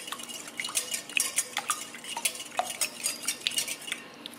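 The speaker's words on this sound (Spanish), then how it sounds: "vamos a batir esto" Eggs with a pinch of salt being beaten in a bowl for Chilean calzones rotos dough, a quick run of light, irregular clicks and scrapes from the whisk or fork against the bowl, close and fairly quiet, with no talk.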